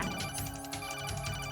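A phone rings in the stealth action video game Metal Gear Solid 2, its tone repeating steadily over a dense layer of game music and effects, fairly quiet overall with no talking.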